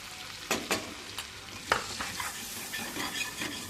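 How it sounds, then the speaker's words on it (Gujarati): A spoon stirs flour into melted butter in a pan over low heat while making a white sauce for baked macaroni. Close scraping strokes recur with a soft, steady sizzle beneath, and no voices. "અને જ્યાં સુધી મેંદો ફૂલે નહીં ત્યાં સુધી આપણે એને સ્ટર કરતા રહીશું"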